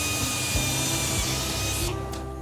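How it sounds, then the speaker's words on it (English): A racing helmet shell is drilled for its visor mounting holes inside a mould, a steady power-tool whir with rough grinding texture that holds close and continuous, then drops away near the end. "Then it's straight into another mould to drill holes where the visor will be attached."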